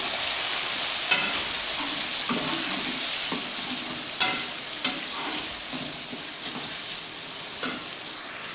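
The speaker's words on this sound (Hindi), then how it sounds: "अभी हम इसमें डालेंगे टमाटर भी डालेंगे इसके अंदर। और उसको चमचे के साथ मिक्स करेंगे।" A spoon stirs chopped tomatoes into sizzling chicken dal gosht, giving steady loud frying hiss with intermittent scraping and clanking strokes against the pot, close by and with no talk.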